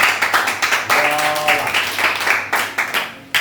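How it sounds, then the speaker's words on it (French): A church congregation breaks into applause during a Sunday service, with close, dense clapping that rises and falls in waves for several seconds. A voice is briefly audible beneath it. "Acclamons le Seigneur Jésus."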